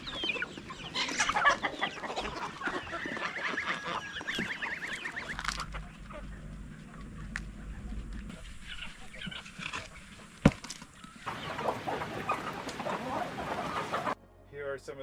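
Chickens in a farm coop cluck and squawk throughout, with busy overlapping calls at moderate distance and a sharp thump partway through. A voice speaks over much of it.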